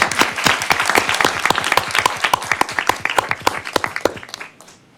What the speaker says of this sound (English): So you got applause at the beginning and at the end.